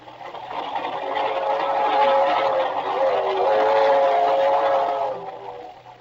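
A train whistle sounds in long, wavering blasts over a low rumble, swelling and fading across several seconds.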